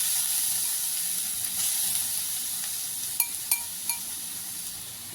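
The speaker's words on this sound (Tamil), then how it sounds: "இப்போ இந்த நெய்யில் நம்ம என்ன பண்ணிக்கலாம்னா, எடுத்து வச்சுருக்க அந்த பூசணிக்காயை போட்டுக்கலாம்" Yellow pumpkin pieces frying in hot ghee for pumpkin halwa, a steady soft sizzle and hiss with a few sharp clicks of a utensil against the pan near the end, no talk.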